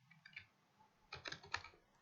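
Keys clatter on a computer keyboard in two short, soft bursts of quick clicks, close and quiet, with a pause between them.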